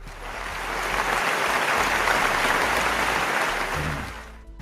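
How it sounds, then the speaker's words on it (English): A group claps in steady, dense applause after a presentation. It runs unbroken for several seconds with no talk over it, then tapers off. "Valerie, thank you for that applause"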